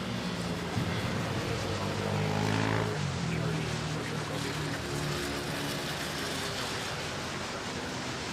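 An airplane touches down at Manila Airport, a broad roaring engine rumble that peaks early and then continues steadily at a distance.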